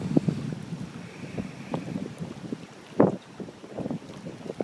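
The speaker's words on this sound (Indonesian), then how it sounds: "Angin yang begitu sejuknya menerpa tubuh." Cool wind gusting outdoors beside water, a steady blustery rush with low rumbling buffets against the microphone and one stronger gust partway through, no voices.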